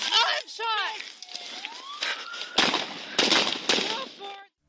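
Sharp gunshots ring out during a mass shooting in Farmington, New Mexico, several abrupt cracks coming among frantic shouting voices and chaotic background noise.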